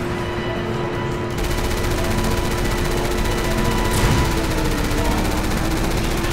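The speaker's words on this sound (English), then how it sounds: "they're shooting us" Steady, dense enemy gunfire rattles continuously through a loud street fight in the video game Resident Evil 6, with no pause and a sharper burst midway.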